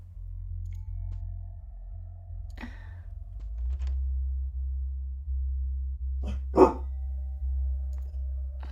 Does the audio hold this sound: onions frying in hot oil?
no